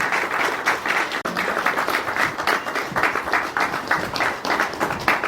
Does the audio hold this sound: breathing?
no